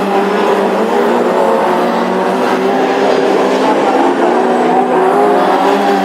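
Classic hot rod race cars roar around the Birmingham oval in a heat, a loud, continuous engine drone from several cars close by, rising and falling slightly as they sweep past.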